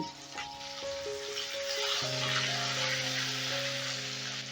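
Chopped tomato hits hot oil and spice tempering with salt, setting off a loud, steady sizzle of frying that holds throughout with no talk over it.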